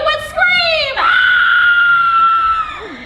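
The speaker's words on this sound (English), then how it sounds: "Let's all hear how you would scream!" A woman lets out a long, loud, high-pitched scream as if facing Norman Bates at a Universal Studios Hollywood show, rising sharply then held steady before trailing off, close and piercing.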